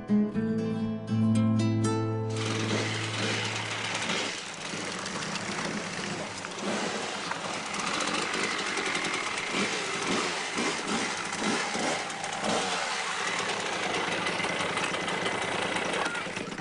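A motorcycle engine idles in a steady, dense rumble for most of the stretch, after a brief tonal, music-like passage at the start.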